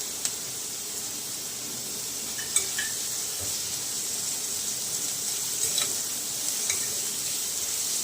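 Capsicum and carrot sautéing in a pan for bread pizza, a steady soft sizzle with occasional light clicks of a spoon stirring, close and even throughout.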